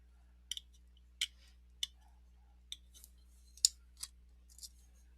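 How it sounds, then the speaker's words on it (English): Scissors snipping basing material for tabletop miniatures, several crisp separate cuts spaced unevenly in a quiet room, close and fairly soft. "So we're going to snip that."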